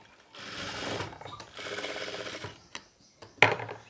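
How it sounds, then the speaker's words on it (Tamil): Sewing machine stitching folded pinafore school uniform fabric: two close bursts of rapid mechanical whirring, then a few short clicks and one final quick burst. "மடிச்சுட்டு இந்த இடத்துல மட்டும் தையல் போட்டுடணும்"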